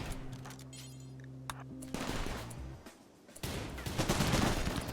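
Shotgun fire in the colony game Rimworld: a couple of sharp blasts break through a humming musical drone, followed by a dense rattling burst of shots that swells louder toward the end.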